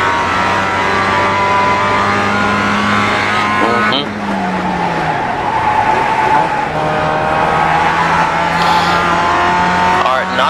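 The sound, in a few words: race car engine and driving in iRacing video game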